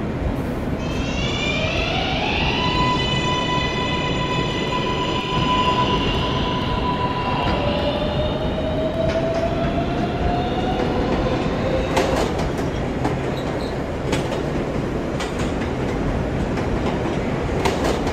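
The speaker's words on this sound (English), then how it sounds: "This is a 53rd Street bound and local train." A local subway train heard from inside a car hums and rumbles steadily, with rising whining motor tones, clattering wheels and a squealing brake near the end as it slows, no voices.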